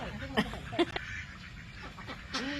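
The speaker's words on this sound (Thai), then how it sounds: "น้องเป็ดก็จะเล่นน้ำตรงนี้สนุกสนานเลยจ้ะ" Ducks paddle and splash in water at a pond where children feed them, with a few short quacks and calls rising over a steady wash of water noise at close range.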